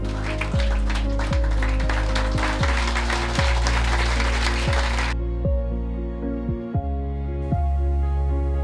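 Wedding guests applaud as the bride's veil is lifted: a dense wash of clapping over music with a steady, thudding low beat, the applause stopping abruptly about halfway while the music carries on.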